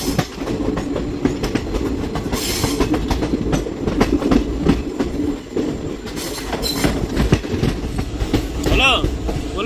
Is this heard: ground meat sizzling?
no